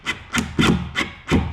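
A Phillips screw being driven into wood by hand, five rough, grinding turns in a steady rhythm, close and clear with no talking.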